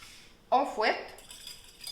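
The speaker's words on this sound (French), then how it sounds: "On fouette." Eggs and vanilla whisked for crêpe batter, with a short burst of quick metallic whisk strokes against a bowl, close and brief, followed by quieter clinks.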